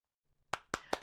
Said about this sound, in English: All right, everybody, yay, more applause for David.